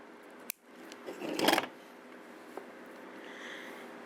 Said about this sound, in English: I'm going to go ahead now and trim the wire